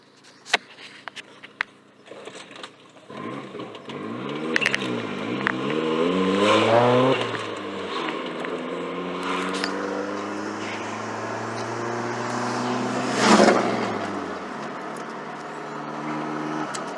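A Volkswagen engine fitted with upgraded 315cc injectors cranks, catches and fires up, then revs up and down several times with rising and falling pitch, recorded close from inside the moving car after a few clicks and knocks.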